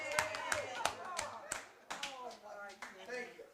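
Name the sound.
round of applause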